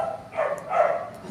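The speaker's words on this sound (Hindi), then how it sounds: "कुत्ते भौंक रहे हैं" Dogs barking a short way off, two yelping bursts about half a second apart over a steady background hum, with no voices.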